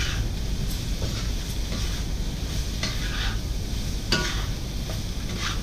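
Cauliflower with saffron and spices sizzling in a hot wok while being stirred, a constant loud frying hiss broken by occasional scraping clinks of the utensil.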